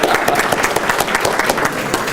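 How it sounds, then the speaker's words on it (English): An audience at a library author talk gives a round of applause, loud and continuous clapping from many hands close by, with a little crowd murmur. "let's give him a round of applause."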